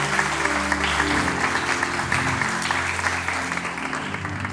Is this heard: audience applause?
yes